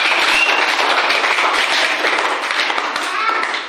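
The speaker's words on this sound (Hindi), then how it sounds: "चलो ताली मारो, बहुत अच्छा सुनाया।" A group of schoolchildren in a classroom claps steadily after a story, a dense, even patter of many small hands close by that tapers slightly at the end.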